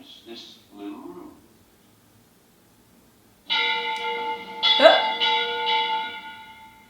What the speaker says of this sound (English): Giant bell or something. That's what it sounds like.